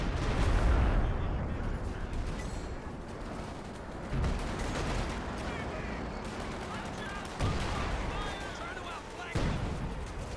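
Howitzer artillery barrage in Company of Heroes 2, with repeated low booms and crackling gunfire through a dense battle mix, while a commentator talks over the action.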